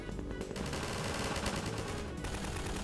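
Rapid automatic gunfire in Half-Life 2 Overcharged: a dense, continuous burst of loud, close shots with a brief lull partway through.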